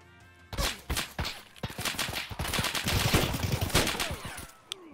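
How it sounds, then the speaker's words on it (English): Gunfire in the shooter game Escape from Tarkov, a dense barrage of loud sharp shots and rapid automatic bursts cracking close by for several seconds, with impacts mixed in. "Wow, that was a lot of bullets in my direction."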